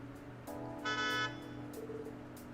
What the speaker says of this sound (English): Sounds like a car to me.